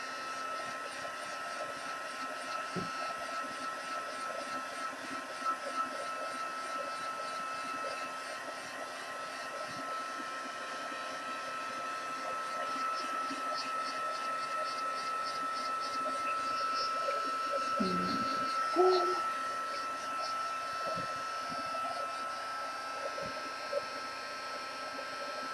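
A hair dryer blows steadily to dry paint on a sparkly craft layout, a continuous airy whir that runs the whole time with small shifts in pitch and a few soft bumps.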